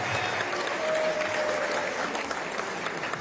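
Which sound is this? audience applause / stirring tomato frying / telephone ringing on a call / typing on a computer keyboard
audience applause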